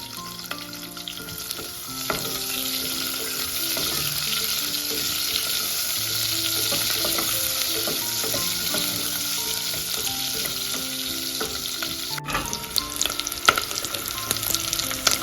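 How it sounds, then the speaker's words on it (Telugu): Onions fry with fenugreek seeds in a pan for a Rayalaseema-style dal, producing a loud, steady sizzle and crackle with occasional stirring scrapes, and no one talking. "ఆనియన్స్ వేసి బాగా వేగిపోవాలి."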